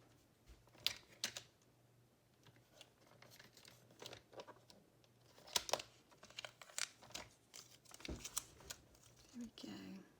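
A paper trimmer slices small paper pieces for junk journal ephemera, making faint, close swishing cuts and crisp rustles in scattered bursts, while a quiet voice talks underneath.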